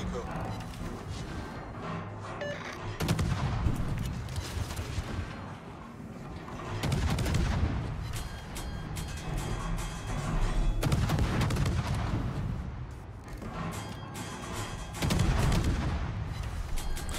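Naval guns booming in a warship video game while an Italian destroyer comes under fire, with heavy salvos arriving in loud surges every few seconds over a constant battle rumble and a player talking.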